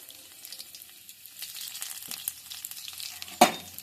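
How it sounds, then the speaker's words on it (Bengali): Chopped garlic fries in mustard oil in a wok, a soft crackling sizzle that builds gradually, with a sharp clatter near the end. "রসুনটা একটু ভেজে নিচ্ছি"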